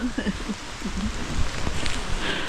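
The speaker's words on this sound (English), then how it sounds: "Sal, you having fun in the rain?" Rain falls steadily on a forest trail during a fall hike in Linville Gorge, making a soft, continuous hiss and patter that stays even throughout, with faint murmuring voices low underneath.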